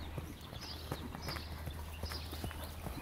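Horses walk over ground poles in a riding arena, hooves clopping in a steady, fairly close rhythm of repeated thuds with no talking over them.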